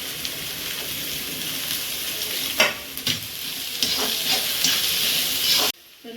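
Capsicum and mixed vegetables fry and get stirred in a kadai, a loud continuous sizzle broken by a few sharp scraping stirs, close up, with no talking.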